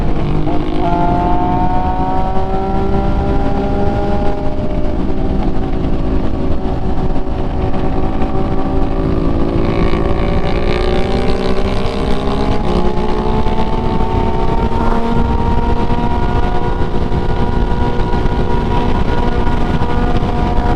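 An MV Agusta motorcycle with a check engine light on is ridden hard, its engine roaring continuously and loudly with rising and falling revs throughout.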